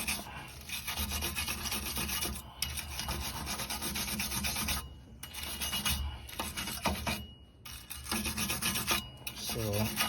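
Wire brush scrubbing rust off the rear alignment area under a Honda Fit, a steady close rasping that runs in long strokes with a few brief pauses.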